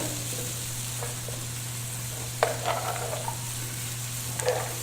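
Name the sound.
chicken and flour browning in a pan for pot pie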